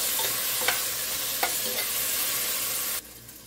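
Onions and tomato sauté in a pan for vegetable sambar, giving a steady bright sizzle with a few soft scrapes of stirring. The frying stops abruptly near the end.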